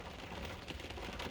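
Rain patters steadily on a 1998 Honda Accord with a 2.3 F23A1 engine during a wet drive, a faint, dense hiss of drops with no voices.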